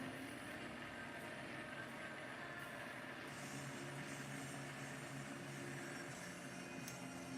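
A shaker machine running fast gives a steady, dense mechanical rumble and whir that holds at an even level for several seconds, with no talk over it.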